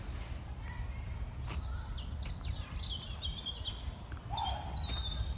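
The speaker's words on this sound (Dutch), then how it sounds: "Vogeltjes hoor." Small birds chirp and twitter at a camper site in Nieuw Milligen, a scattering of thin, high calls and short trills over a low background rumble, faint and some distance away.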